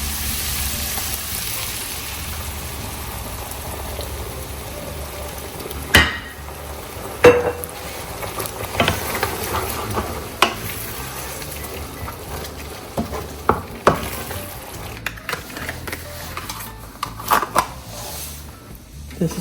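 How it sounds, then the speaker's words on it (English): Spinach sautés in a pan with butter and garlic, giving a steady soft sizzle broken by scattered clinks and scrapes of stirring. "So I'm gonna throw it in the pan with more butter and garlic."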